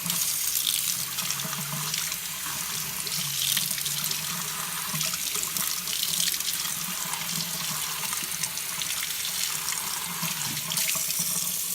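Cold water running steadily from a kitchen sink tap as bird seeds are rinsed for sprouting, a continuous close splashing hiss with no pauses and no voices.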